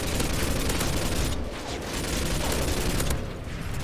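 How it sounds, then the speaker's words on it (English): Dense suppressing gunfire in the Modern Warfare 2 game, a near-continuous barrage of rapid shots and booms that rattles on for several seconds with a short lull in the middle. "I got some suppressing fire coming in."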